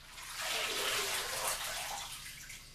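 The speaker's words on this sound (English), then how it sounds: "We have now washed our turnips. And we have them here in the sink in water." Washed turnips sloshing in a sink full of water, a soft continuous watery swishing and splashing, close and fairly quiet with no talk.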